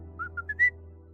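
A person whistles a short run of four rising notes, the last one longest and brightest, close and clear over a low steady hum, with no talk.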